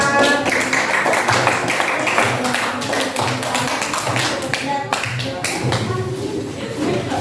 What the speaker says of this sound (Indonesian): Boleh tepuk tangan lagi buat kelompok 4.